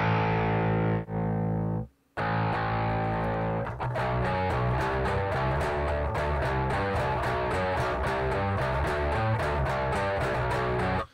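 A bass guitar played through a pedalboard preamp set for a distorted metal tone: a sustained growling note, a brief pause, then rapid chugging riffs with sharp, evenly spaced palm-muted attacks, loud and dry.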